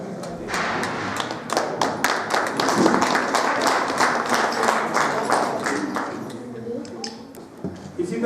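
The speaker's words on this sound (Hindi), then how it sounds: "तो इसके लिए जोरदार तालियां" Loud applause for high school cadets at a school management committee honour ceremony in Hardaspura, dense clapping throughout with a hum of crowd and voices beneath it.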